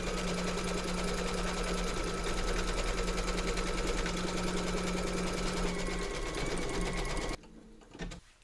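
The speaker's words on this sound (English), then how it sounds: "I'm stitching at a rate of 600 stitches per minute." An embroidery sewing machine stitching a runner at 600 stitches per minute, a steady rapid mechanical whirr with fast regular needle clatter, close and continuous, then abruptly stopping near the end followed by a few faint handling sounds.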